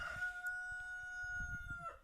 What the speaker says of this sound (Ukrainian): Блін, півень.